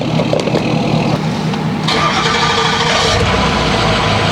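A Ford 6.0L Powerstroke diesel truck engine cranks and catches, settling into a steady loud idle that fills the clip after a brief rise in noise midway.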